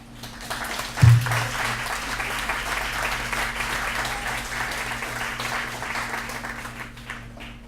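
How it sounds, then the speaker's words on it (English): Audience applause after a poetry reading, dense clapping from a crowd that swells after a brief bump and continues steadily for several seconds, fairly close. "Let's have another round of applause for the Metermaids."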